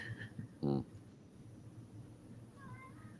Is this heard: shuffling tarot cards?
no